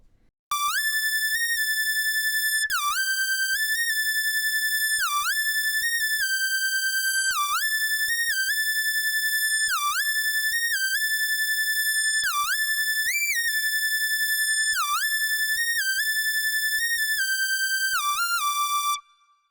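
A whistling G-funk synthesizer lead from Behringer Model-D and Arturia Minimoog plays a gliding pop melody, washed in reverb that lets the notes ring and blur together; no voices.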